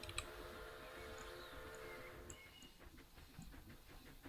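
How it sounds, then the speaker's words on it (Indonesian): Train rolling past in the Planet Zoo video game, a steady mechanical rumble with hissing and soft rhythmic clicking that is faint and continuous, with no voices over it. "Ada kereta"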